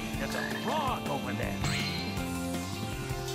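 A frog croaks several times in Sonic Heroes amid busy game music and effects, the calls close and fairly loud, with a person's voice mixed in partway through.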